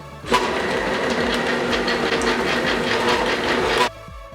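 Electric mixer pulsing through thick cheesecake batter for White Chocolate Amaretto Cheesecake, a steady close motor whir with faint rhythmic pulses, starting abruptly and cutting off after about three and a half seconds, no talking.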